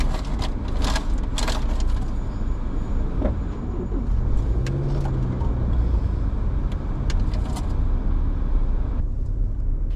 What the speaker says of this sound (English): As we get closer to Austin, the traffic starts to get worse.